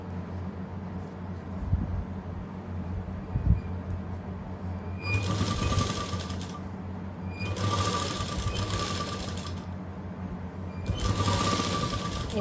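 A sewing machine stitches lace along a garment neckline beside piping, running in three separate bursts of rapid, close whirring with quiet pauses between them.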